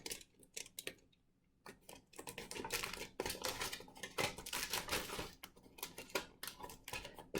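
Aluminium foil being folded tightly into a hand shape gives off close, crisp crinkling and crackling in irregular bursts, quieter at first and then denser and continuous.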